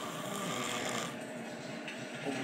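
A man snoring steadily nearby, a continuous rough, raspy breathing drone with no other sounds over it.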